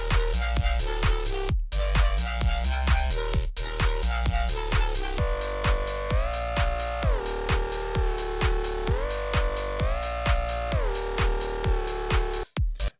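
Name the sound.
EDM synth bass loop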